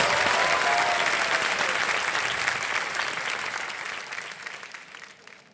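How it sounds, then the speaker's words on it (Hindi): Studio audience applauding on the set of Kaun Banega Crorepati during a visit by the Shark Tank sharks, loud sustained clapping that fills the space and slowly fades toward the end. "तालियां बज जाए उनके लिए जरा"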